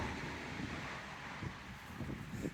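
Steady cold wind blows outdoors on a bug-free day, a constant broadband rush with faint low buffeting gusts against the microphone, without talk.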